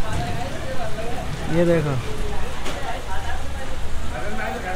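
Rain falling outdoors makes a steady, broadband patter and hiss throughout, with someone talking over it close by.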